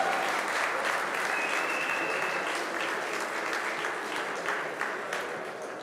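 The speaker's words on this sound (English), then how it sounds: "Round of applause, Niyazi, Kurt." Audience applause at an armwrestling event, the Hardanger Open, a dense, loud round of clapping that holds steady for several seconds before easing slightly.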